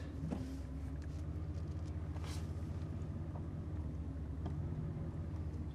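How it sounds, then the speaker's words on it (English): A Chevrolet Silverado's Vortec 8100 8.1-litre V8 idling roughly with falling revs, a steady low engine rumble close by, alone with no talk. "RPM keeps falling and it's not a real strong idle"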